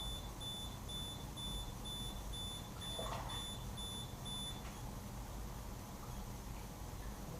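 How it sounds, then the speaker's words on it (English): An electronic beeper sounds a rapid, evenly spaced run of short, high, thin beeps during water transfer printing work, then falls silent partway through, leaving only a steady background hiss. "My beeper's driving me nuts."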